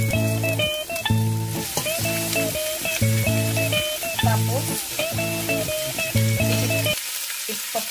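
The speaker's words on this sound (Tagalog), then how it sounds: "Fried natin yan." Pork belly frying in a pan: a loud, steady close sizzle with rhythmic bursts of stirring, cutting off abruptly near the end.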